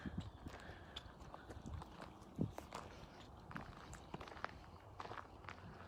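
Horses walk over soft ground, their hooves thudding in an irregular clip-clop amid faint outdoor background noise.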